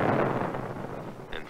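A single cannon fires in a 1963 documentary about the Kremlin: a dull booming blast that rolls off into rumble, followed by a faint brief crack near the end.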